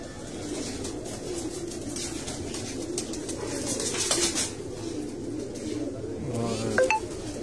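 Domestic pigeons cooing from a rooftop loft, low soft coos repeating steadily under a constant ambient hum, with a few faint clinks and a brief higher bird call near the end.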